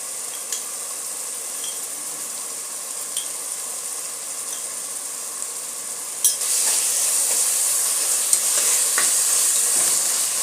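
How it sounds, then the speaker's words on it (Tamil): Chicken biryani masala with tomato and ginger-garlic cooking in a pan, a steady hissing sizzle that grows louder partway through, with a few light spoon knocks and no voices. "எல்லாத்தையும் ஒன்றா மிக்ஸ் பண்ணிக்கலாம்"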